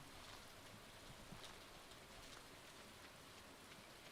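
Steady, even rain in the Stardew Valley farming game, a constant soft hiss of drops with no breaks, heard alone at a fairly low level.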